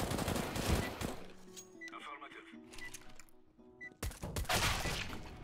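Counter-Strike gunfire bursts from a match, with rapid rattling shots at the start and again at the end around a quieter stretch of in-game sounds, while players talk over it.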